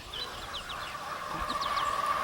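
Guinea fowl in a backyard garden give a series of short, repeated chirping calls, fairly faint against light background noise, with a steadier tone running beneath them.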